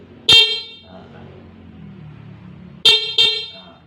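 Motorcycle horn sounding as its button is pressed during electrical wiring work: one loud, close honk, then two quick honks in a row after a short pause.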